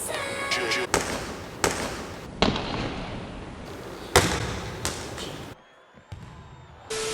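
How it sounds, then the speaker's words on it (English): A basketball being shot and bouncing in a high school gym, heard as several sharp, echoing thuds spaced about a second apart, loud and reverberant in the large room, with a brief quiet gap near the end. "I'll insert a clip of me shooting a basketball here."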